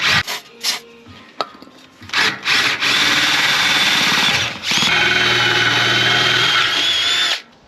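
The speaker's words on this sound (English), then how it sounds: "upgraded from the step drill bit up to just a standard drill bit" A Milwaukee power drill with a standard bit whirs in short bursts, then bores steadily through material in two long, loud runs with a grinding, rasping edge.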